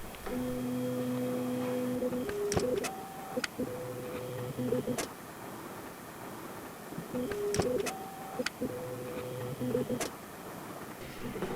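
A machine hums and whirs with stepping motor tones, rising and falling pitches in repeated sequences, punctuated by sharp clicks, steady and close.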